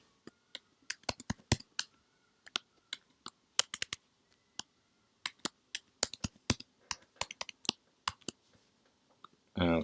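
Keys clatter on a computer keyboard as login credentials are typed, a quiet irregular run of sharp clicks in short bursts with brief pauses between them, close and alone.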